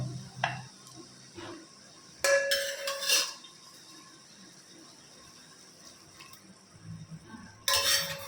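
Pressure-cooked mutton tipped into fried masala in a pan, with a few loud clattering metal scrapes and clinks against the cookware, separated by quieter stretches of low kitchen noise.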